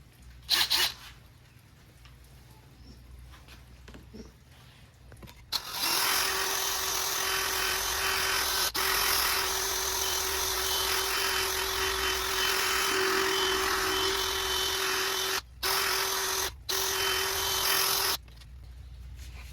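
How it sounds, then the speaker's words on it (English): Steady polishing whine of a buffer running an old, soft buffing pad over car paint in a DIY paint job, sustained and loud for most of the clip with short pauses near the end. "Now that was an old buffing pad I had for doing headlights."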